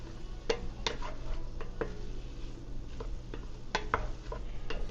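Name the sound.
chicken and dumplings stew simmering and being stirred in pot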